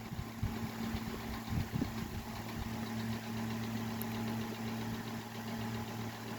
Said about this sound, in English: While it does run really well, it does have a rattle to it.